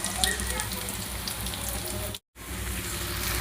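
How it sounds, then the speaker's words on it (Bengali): New potatoes frying in oil for raw banana kofta, a steady dense sizzle throughout with a brief dropout near the end. "আলুগুলো ভেজে নিচ্ছি, এগুলো সব নতুন আলু,"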